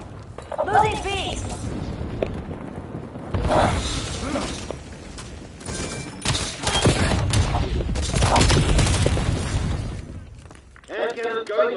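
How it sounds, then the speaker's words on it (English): In a Call of Duty match, an air cannon unleashes a long stretch of heavy, rumbling blasts and crackling bursts mixed with chaotic battle noise, while a voice talks at the start and end. "Air cannon going off."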